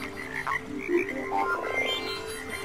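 Cartoon frogs croak in a Telugu children's animation, with a few rough, repeated croaks over a steady backing, fairly close and moderately loud, with no speech.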